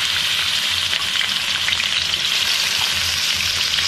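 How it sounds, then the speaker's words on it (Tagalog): Meat is sautéed in a pan, giving a steady, close sizzle and crackle of frying that carries on without pause and with no one speaking over it. "so gigisahin ko lang siya"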